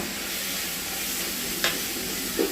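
Garlic sautés in a hot pan with a steady, even sizzle, joined by a couple of brief stirring scrapes near the end.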